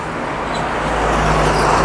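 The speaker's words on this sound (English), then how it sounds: "So this will be another bus that's coming along here." A city bus rolls along a street in Cebu, its broad rumbling road noise swelling steadily louder as it approaches over a background of traffic.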